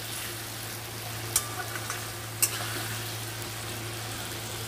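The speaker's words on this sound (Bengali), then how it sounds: "আলুটাও একটু ভেজে নেব এর সঙ্গে" Potato, shrimp and onion frying in oil in a pan give a steady close sizzle with a low hum beneath, broken by two sharp clinks of a utensil.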